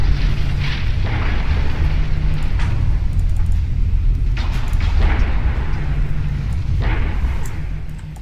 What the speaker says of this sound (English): A couple of torpedo hits.